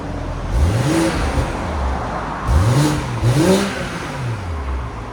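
A 2022 BMW M340i with a 3.0L turbo inline-six and Valvetronic downpipe-back exhaust, valves closed, gives a deep, close rumble at idle broken by a few quick rev blips that rise and fall.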